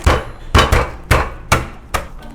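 Dry cup ramen noodles in a bag being crushed by hand, about six loud, close, sharp thumping crunches in an uneven rhythm, each fading quickly.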